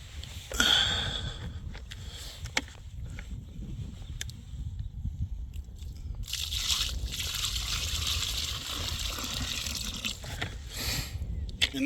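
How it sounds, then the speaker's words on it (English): Water is poured into a hole dug in compact, hard clay soil outdoors, with a sloshing splash near the start and then a steady, hissing pour and trickle that continues close by. "the only way to get through it is really to add that water."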